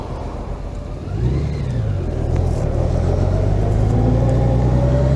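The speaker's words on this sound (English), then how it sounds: "that was a second gear takeoff" A Honda Gold Wing motorcycle pulls away in second gear, its engine note rising smoothly from a low idle into a steady, building drone, heard up close with wind noise over the microphone.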